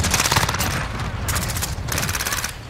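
Rapid bursts of CX-9 submachine gun fire in Call of Duty, loud and close, with a brief lull before further sustained automatic strings.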